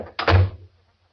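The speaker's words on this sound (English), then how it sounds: "I said to shut the door." A door is pushed shut with one solid, heavy thud and a brief rattle, close and loud, then settles into quiet.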